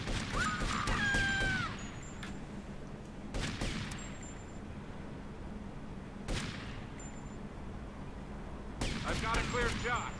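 Police gunfire in the game GTA Vice City comes as a few sharp bursts spread across the stretch, with game effects and chimes between them.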